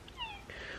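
Young kitten gives two quick, thin, high meows, faint and close, over quiet indoor background.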